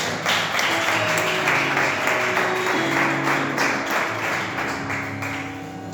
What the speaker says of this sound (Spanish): Vamos a dar un fuerte aplauso a nuestro Dios.